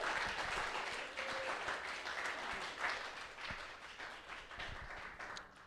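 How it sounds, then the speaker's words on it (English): Audience at an Astronomy on Tap science talk night in San Antonio, Texas, applauds the speaker, a steady wash of clapping that swells slightly and fades toward the end, fairly quiet and distant. "let's give our speaker another round of applause"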